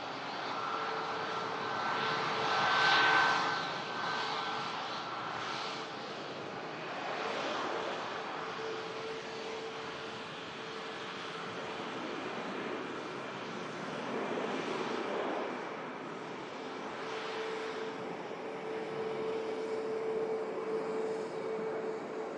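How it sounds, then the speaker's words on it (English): A Vueling airliner lined up on the runway at Manchester Airport spools up its jet engines for takeoff during a storm, a distant, steady roar with a rising tonal whine under gusting wind. "As the Vueling behind is now lined up and beginning its spool up."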